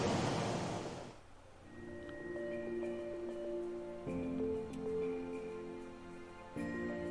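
In the Storm Boy video game, a brief burst of washing waves sweeps over sand at the start, then fades to quiet ambient surf under soft, sustained musical tones.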